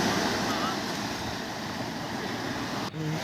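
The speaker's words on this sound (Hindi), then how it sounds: "यहाँ तक लहरें काफ़ी तेज़ आ रही हैं" Strong waves on the shore at St. Mary's Island roll in as a steady broadband roar of surf mixed with wind noise, continuous and fairly loud, with a brief dip near the end.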